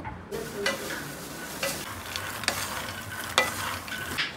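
Corn frying in a pan for makhana bhel, a steady close sizzle broken by several sharp stirring scrapes spread through the stretch, with no talk.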